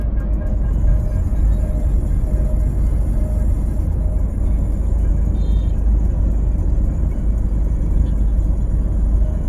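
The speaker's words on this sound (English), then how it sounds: "let's go ahead and punch the AC button and listen." Car air-conditioning system with moisture inside runs steadily after being switched on, giving a continuous low rumble and whir from the engine bay, close and fairly loud, with a faint higher hiss on top and no talking.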